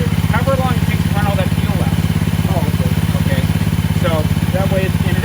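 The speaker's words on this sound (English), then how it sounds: "it doesn't hurt to run the engine like that" A Keene firefighting pump engine runs at a steady idle, its close, even rhythmic chugging continuing throughout while a person talks over it.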